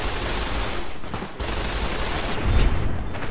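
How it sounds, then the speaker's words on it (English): Dense, continuous gunfire crackles and booms through a Fallout New Vegas firefight, loud and unbroken with a deeper thump near the end. "Keep shooting him!"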